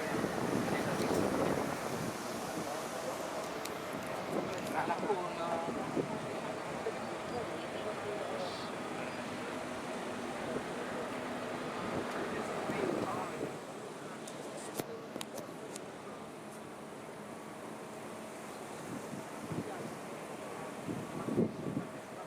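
Ship heading out to sea past the Panama Canal locks toward the Pacific, with steady wind buffeting the microphone and a broad wash of water and engine noise throughout; the roar eases somewhat partway through.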